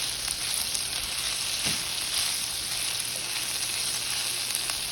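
Chilies frying with sisig, the Filipino dish, in an Instant Pot, giving a steady, close, dense sizzle that runs unbroken with a faint stir or clink near the middle.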